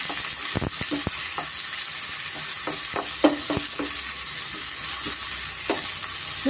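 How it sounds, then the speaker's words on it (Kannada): Chopped onions stir-fry in a pan for green egg bhurji, a steady close sizzle broken by repeated spatula scrapes and taps against the pan, with no one speaking. "ಇವಾಗ ಹಚ್ಚಿರೋ ಈರುಳ್ಳಿನ ಸೇರಿಸ್ತಾ ಇದ್ದೀನಿ ಸ್ವಲ್ಪ ಈರುಳ್ಳಿ ನಾವು ಚೆನ್ನಾಗಿ ಫ್ರೈ ಮಾಡ್ಕೊಬೇಕಾಗುತ್ತೆ"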